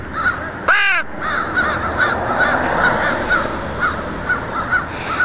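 Crows caw repeatedly nearby, harsh calls overlapping in an irregular rhythm, with a brief sharp chirping burst near the start.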